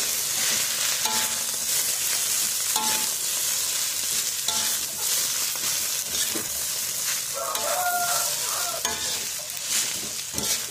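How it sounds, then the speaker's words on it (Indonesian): Water spinach (kangkung) stir-fried in a pan with a splash of water, giving a steady sizzle with scraping stirs and clinks of the utensil throughout, close and fairly loud with no talking. "Kita masak kangkung dan diberi air dulu, dioseng terus sampai"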